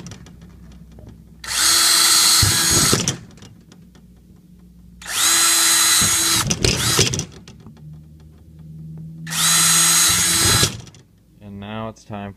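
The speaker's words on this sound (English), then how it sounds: "Then I'm going to drill some pilot holes in each corner." A power drill whirs in three bursts of about one and a half seconds each while boring pilot holes into the corners of wall paneling during a laundry room remodel, loud and close, with quiet pauses between bursts.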